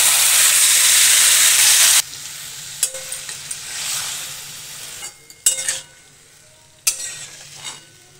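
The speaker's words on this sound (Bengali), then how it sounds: "চিকেন পেঁয়াজের সাথে ভালো করে মিশিয়ে নিয়েছি।" Marinated chicken with onions and chopped tomato sizzles loudly in a pan for two seconds, then quieter frying continues with scraping stirs and clinks.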